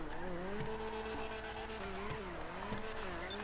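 Naturally aspirated car engine in the GTA video game, a steady droning hum with slight pitch wavering as revs rise and dip, heard alone at moderate distance with no talk.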